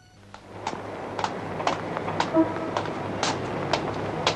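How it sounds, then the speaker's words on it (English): Rhythmic clapping thuds in an uneven trotting pattern, applause standing in for horse hoofbeats, fairly faint and steady over a low background hum. "Also in Turkey, horses sound suspiciously like people applauding."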